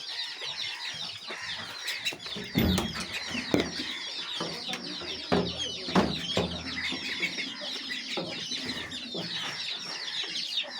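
Ducks call and chatter busily while feeding on rice, with occasional sharp quacks and wing flaps over a constant low bustle.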